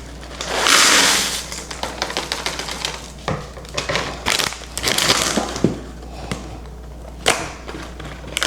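Packaged holiday stuffing being torn open by hand: close, crinkly crackling and sharp ripping bursts, with an intense rustle early on followed by scattered snaps and crumples, no talking.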